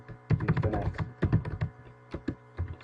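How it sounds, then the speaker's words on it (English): Keys clack on a computer keyboard as a network interface command is entered, a burst of close, crisp keystrokes with brief pauses between clusters, no talking. "we're going to type in interface fast Ethernet"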